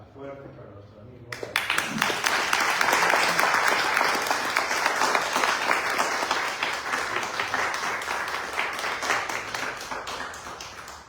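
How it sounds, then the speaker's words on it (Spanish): An audience at a book presentation breaks into loud, sustained applause for a friend, dense clapping that swells quickly after a spoken line and keeps going for many seconds, tapering slightly. "Palmas fuertes para nuestro amigo."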